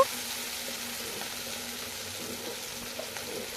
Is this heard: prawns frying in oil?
yes